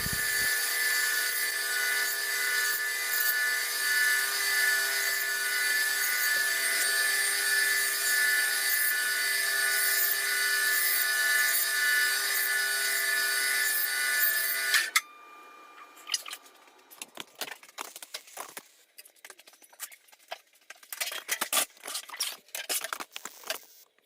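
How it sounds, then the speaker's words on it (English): A loud, steady high-pitched whine of a Robo Sander smoothing a plastic template runs for a while, then cuts off, followed by scattered scraping and rubbing sounds. "So here's the Robo Sander. It's basically a template router."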